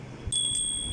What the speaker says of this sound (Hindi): आज मैं घंटी बजाते हुए सरकार के कानों तक इसकी आवाज को पहुंचाते हुए उन्हें जगाना चाहती हूँ।